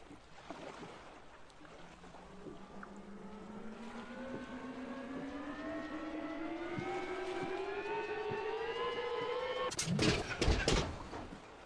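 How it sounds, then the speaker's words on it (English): A video game engine flywheel spun up by hand crank, a rising whine climbing steadily in pitch over several seconds, then cut off by a few sharp clunks as the engine catches. "spin up the flywheel with the hand crank"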